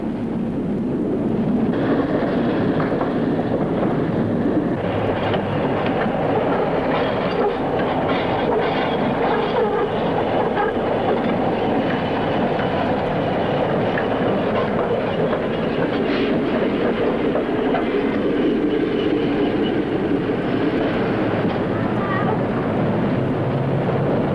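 A 1975 Pittsburgh trolley rolls steadily over broad-gauge street track on a hilltop run. A continuous loud rumble carries rail clatter and wheel noise for the whole stretch, with a faint voice under it.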